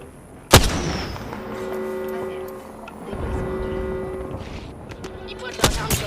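Apex Legends gunfire: a sharp, loud shot rings out, a steady droning hum carries on, and a second crack comes near the end.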